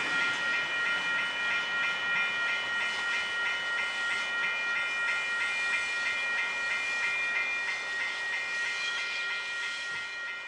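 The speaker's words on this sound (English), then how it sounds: "Departing on platform number 2 we have Waratah set A18 for a Richmond service." A Waratah electric train, set A18, pulls away from the platform at Mulgrave station, a steady loud rolling rumble with whining motor tones held throughout, no voices.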